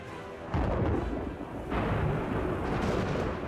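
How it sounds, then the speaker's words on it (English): Heavy thunder from a violent storm rumbles loudly and continuously, with a deep roll that swells again partway through and no voices. "a violent storm hit the army"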